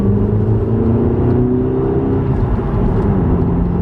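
A petrol Audi A3 TFSI drives with a steady, loud engine drone and whirring cabin noise, the pitch shifting gradually as it moves through the gears, with no talk.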